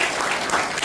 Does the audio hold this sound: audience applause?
yes